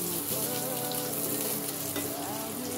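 Chopped onion with red and green chillies sizzles steadily in hot oil, a dense continuous frying hiss with faint stirring, close and loud throughout, no voices.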